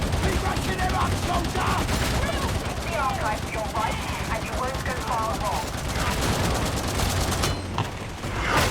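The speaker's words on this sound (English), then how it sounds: "Just machine gun them." Sustained automatic gunfire from the Warhammer 40,000 Darktide video game, dense and continuous rapid bursts filling the whole stretch at steady loudness, with game effects layered in.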